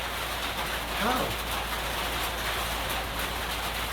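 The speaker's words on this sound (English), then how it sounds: "It's remarkable, this rain." Steady rain falling, a constant even hiss throughout, with a voice briefly speaking over it.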